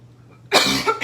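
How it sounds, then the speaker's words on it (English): After a brief silence, one loud, close cough bursts out, followed by a second smaller cough. "Still working with this cough."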